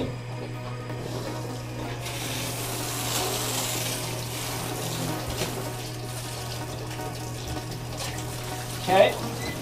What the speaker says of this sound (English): we're gonna put some water down in the tub.